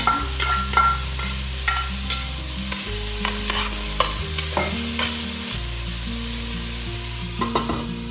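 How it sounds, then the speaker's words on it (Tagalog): Bacon sizzles without oil in a heated Saladmaster 6-quart roaster, a loud continuous crackle broken by sharp spatula scrapes and clinks against the pan. "Time to fry the bacon."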